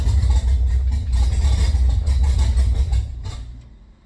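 Engine of an abandoned drift car running steadily at a low idle, a loud, constant rumble with heavy low-end throb that fades slightly near the end.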